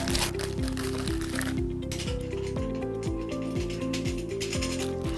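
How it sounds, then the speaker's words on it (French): A ratchet tightens fasteners while an Ekinox C wall panel is assembled, giving a steady run of close, fast mechanical clicks that continues for the whole stretch. "Et on vient visser."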